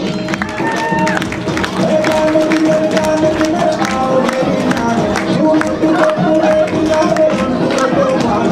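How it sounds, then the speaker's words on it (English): An audience applauds kids after their dance performance, a sustained patter of many hands clapping alongside crowd chatter and faint tonal sounds in the background. "Thank you so much sir for clapping for the kids"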